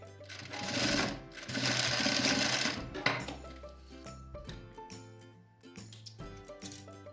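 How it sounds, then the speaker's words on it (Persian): A sewing machine stitches a hoodie sleeve onto the bodice in close, loud, rapid mechanical bursts that start and stop, with clicks and short pauses between runs. "آستینو به این قسمت روی بالاتنه قرار میدیم و شروع میکنیم به دوختن"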